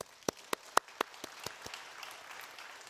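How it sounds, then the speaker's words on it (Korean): Congregation applause during a church sermon at Guri Jeja Church: a handful of sharp, separate claps ring out first, then blend into a steady, softer wash of many hands clapping at a moderate distance, with no talking. "우리 이교구를 위해서 뜨거운 박수"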